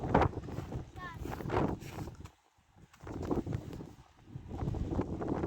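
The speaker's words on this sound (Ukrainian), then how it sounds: "Вітер такий капець, Да?" Strong wind by the sea buffets the microphone in heavy gusts, briefly dropping away midway, with voices talking faintly underneath.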